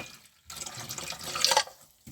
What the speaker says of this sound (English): Bit of cold water. Rinse it all out.